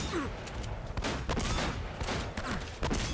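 Enemy gunfire in Uncharted: Drake's Fortune cracks in sharp, closely spaced bursts of shots amid a dense, loud firefight, with several distinct reports in quick succession.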